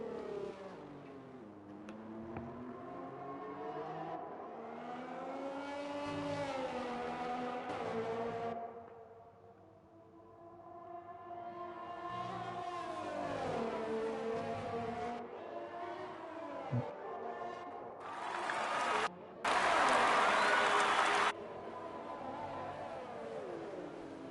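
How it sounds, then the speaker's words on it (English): F1 race cars in the F1 2020 video game at the Hungary circuit, high-pitched engine notes rising and falling as cars accelerate and shift gears, close and continuous, with a brief harsh burst of noise near the end. "Coming through turn 1, Das Vessel leading his teammate."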